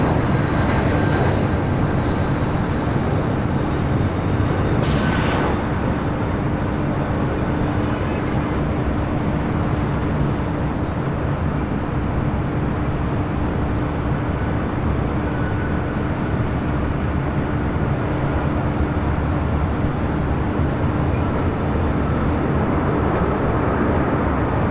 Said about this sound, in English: JetBlue Airways flight 823 coming in from JFK